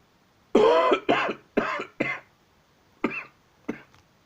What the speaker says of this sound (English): I've been coughing like hell for the past few days.